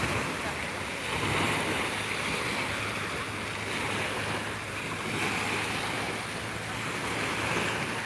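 Sea waves rolling onto Sai Kaew beach, a broad steady wash of surf mixed with wind buffeting the microphone, continuous and fairly loud with no voices.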